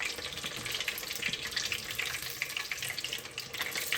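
Pork and vegetable egg rolls fry in hot oil, giving off a steady, quiet crackling sizzle with dense fine spatter and no pauses, heard close without any talking.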